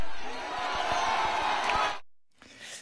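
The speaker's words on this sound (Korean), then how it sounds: "자, 야유죠, 야유." A crowd at a political rally speech boos, a dense loud roar of many voices lasting about two seconds with some thumping underneath, then cutting off abruptly before faint noise returns.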